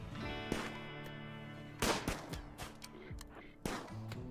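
Gunshots in the colony-management game RimWorld: a few sharp, moderately loud cracks scattered over a steady background of game music, with a small cluster of quicker reports near the middle.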